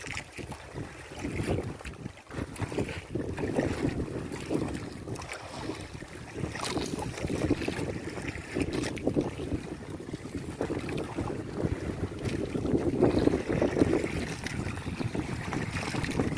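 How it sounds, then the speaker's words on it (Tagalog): A strong amihan monsoon wind buffets a small fishing boat at sea during traditional net fishing for tuna, with steady gusting roar and microphone wind noise, loud and continuous. "Medyo malakas na po amihan."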